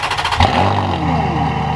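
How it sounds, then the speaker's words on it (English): A Ferrari engine starting up from cold with a quick crank, then settling into a loud, steady idle with a rising whine, close by. "cold startup. Well, it might be a lukewarm startup."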